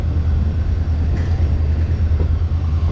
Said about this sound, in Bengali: এই দার্জিলিং মেল